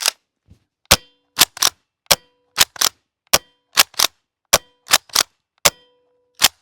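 An airsoft KSG shotgun firing BBs: a string of sharp, metallic clanging shots at close range, some in quick pairs, with short gaps between them.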